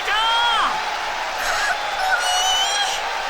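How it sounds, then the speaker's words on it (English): A crowd cheers and shouts inside a school gym in a visual novel video game, a steady, dense wash of voices with a few higher whoops rising above it throughout. "Gym is enveloped in everyone cheering and shouting."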